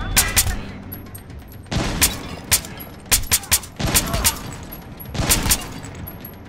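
Gunfire from the video game Splinter Cell Blacklist, repeated sharp shots in clusters of two and three, loud and close, with bursts of blasts between them and a voice speaking briefly.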